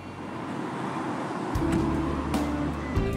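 A tour bus setting off for Shinjuku, Japan, its engine rumbling up from a quiet start into a steady close drone with a low hum, faint rattles and road noise.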